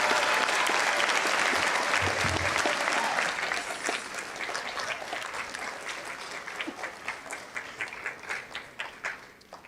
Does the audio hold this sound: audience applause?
yes